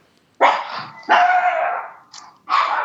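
A dog barks three times in sharp, loud bursts close by, with short pauses between barks and no talking.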